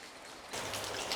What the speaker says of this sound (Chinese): 它这个岩壁上在滴水，就像是下大雨一样